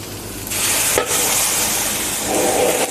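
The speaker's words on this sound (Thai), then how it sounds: "ผัดต่อ ผัดไปเรื่อยๆครับ ให้หอมใหญ่สุกครับผม" Pork, onion, coriander root and garlic stir-fried in a pan, a steady loud sizzle with a scraping stir around the one-second mark, continuing without voices.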